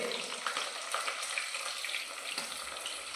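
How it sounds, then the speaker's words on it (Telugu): Onions sizzling in leftover oil for a mutton curry, a close, steady crackling fry with bright spatters throughout. "ఇంకా ఈ మిగిలిన ఆయిల్ వేస్ట్ చేయకుండా దీంట్లో కొంచెం ఉల్లిపాయలు వేసేసి మటన్ కర్రీ చేస్తున్నా"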